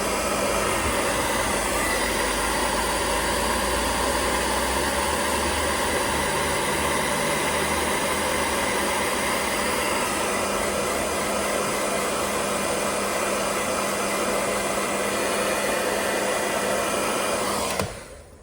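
A hair dryer blows loudly and steadily for about eighteen seconds, warming the adhesive of a phone mount stuck to a leather dashboard, then cuts off abruptly.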